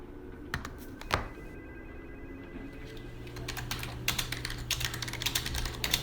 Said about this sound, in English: God, what kind of terrible typing is that?